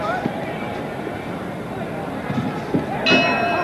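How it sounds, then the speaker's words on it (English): A boxing round bell rings at a 1971 heavyweight bout, a bright clang near the end cutting through arena crowd noise and commentator talk. "And the bell."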